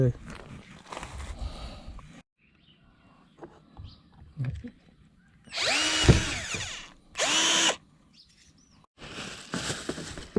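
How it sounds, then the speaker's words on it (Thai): Power drill boring a hole through the plastic lid of a multipurpose sprayer tank, heard in several loud whining bursts with pauses between, alongside lighter handling noises and someone talking. "เดี๋ยวนี้จะเจาะฝา เลยครับ เจาะเจาะตรงฝามั"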